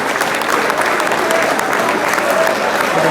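A crowd at a post graduate college magazine event applauds loudly and continuously, a close wash of many hands clapping at an even intensity, with some voices mixed in beneath.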